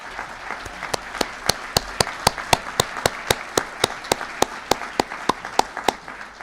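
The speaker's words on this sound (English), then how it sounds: "Please stand, give her a round of applause." Clapping at a clean energy economy forum, heard as a strong, evenly spaced beat of sharp claps that carries steadily from start to finish with no voices over it.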